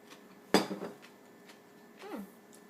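A metal fork clinks against a bowl of Hungarian cucumber salad, one sharp close clatter followed by a few softer scrapes and taps, quiet between hits.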